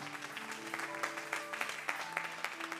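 A church congregation claps in a short burst, scattered hand claps over a low murmur of voices and a lingering sustained tone, moderately loud and fairly close.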